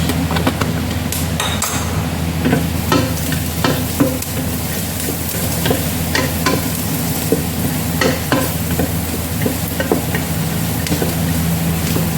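Coriander, cumin and spices fry for kabsa, a steady loud sizzle with frequent scraping stirs and clinks against the pan throughout.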